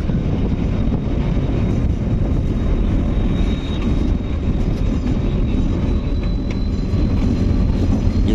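A train locomotive pulling into Sukkur railway station, a loud continuous rumble and rattle of the engine and wheels heard from on board, with wind buffeting the microphone and no clear talk.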